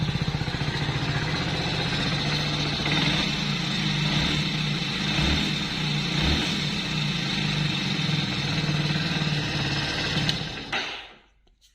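A modified Hero Splendor motorcycle idles with a steady, loud exhaust drone from its silencer, running evenly and close for about ten seconds before cutting off abruptly near the end.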